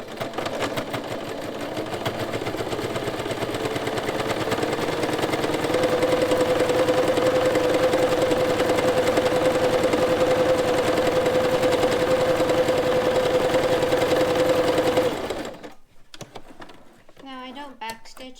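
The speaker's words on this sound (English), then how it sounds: "what I'm going to do is sew about 1/4 inch in a line here" A sewing machine stitches a quarter-inch seam on a homemade fabric face mask, running as a continuous close whirring hum for about fifteen seconds before stopping, leaving faint room sound.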